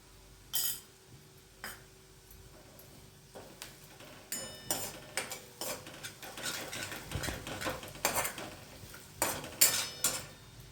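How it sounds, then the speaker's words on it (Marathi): A metal spoon stirs sponge gourd with turmeric and crushed peanuts in a pan, making close, irregular scraping and clinking against the metal, sparse at first and then busier and more rhythmic, with no talking. "त्याला पण छान हलवून घेऊ याच्यात एक चमचा हळद टाकू"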